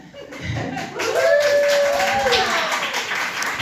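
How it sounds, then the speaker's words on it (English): An audience at a mayoral meet and greet in a loft claps for Zach, a burst of scattered hand claps with a few chuckles rising and holding steady, while a voice carries over the top. "He gets more of a clap than she does."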